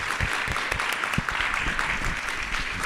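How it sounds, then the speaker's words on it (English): Conference audience applauds a panel of presenters after a morning session, a moderate, steady patter of clapping heard from a distance in a hall. "Let's give them all a round of applause."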